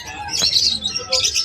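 Lovebirds chirping at a pet market in Malabon, with bright high tweets in two bursts, one early and one near the end, over a low murmur of background noise.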